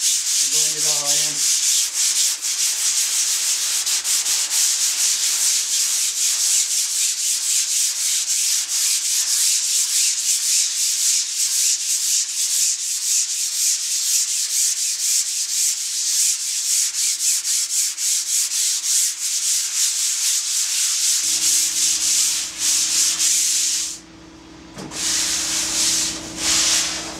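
Steady, continuous scratchy rasping of fine drywall sanding screen on a foam pad worked by hand across surfboard foam to blend a rail, loud and close throughout with brief changes near the end.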